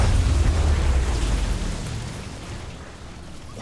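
A Fortnite explosion rumbles loud and low at the start of the clip, then slowly fades out over a few seconds into a lingering deep roar.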